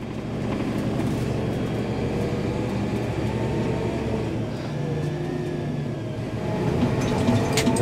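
A Massey Ferguson 8740 tractor drives over bumps, its engine giving a steady, loud rumble with low knocks and rattles running through the whole stretch, no voices.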